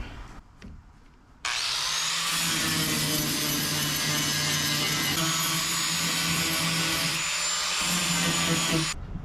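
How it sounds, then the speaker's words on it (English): A flap disc on a power grinder cuts a crack in a fiberglass boat hull: a sudden loud, sustained whine and abrasive roar that runs nearly continuously, then cuts off, after a brief quiet start. "I'm going to get this flap disc, grind this crack down a little bit."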